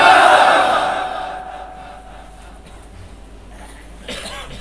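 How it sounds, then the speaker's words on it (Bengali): A large crowd at a Bengali religious sermon roars a takbir chant in answer to the preacher, a loud massed shout that swells at the start and then trails off into a sustained crowd murmur. "নারে তাকবীর বলেন।"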